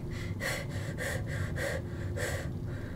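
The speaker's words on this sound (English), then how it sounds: "sorry for the heavy breathing" Someone is gasping and breathing heavily in quick, ragged bursts, close to the microphone, after a scare in the game Little Nightmares; about six or seven sharp breaths in a row with no speech.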